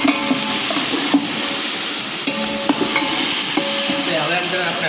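Whole spices, bay leaf, cinnamon, whole chilies, cumin and asafoetida, sizzling steadily in hot oil while being stirred, with occasional scraping clinks of a spoon against the pan, close and continuous.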